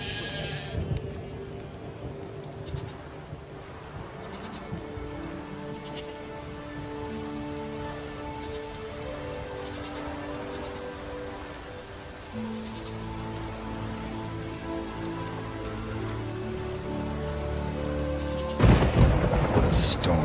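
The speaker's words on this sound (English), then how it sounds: "What a storm, damn it." A game thunderstorm from The Witcher 3: Wild Hunt: steady rain on surfaces under a low rumble, layered with tonal music and other game sounds, ending in a sharp louder burst like a thunderclap.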